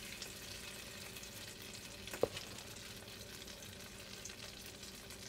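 Fritter batter sizzling steadily in very hot frying oil, a continuous bright crackle with one brief louder pop partway through, no voices.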